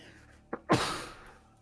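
A person nearby sneezes once: a short sharp intake of breath, then a loud burst that trails off into a breathy exhale.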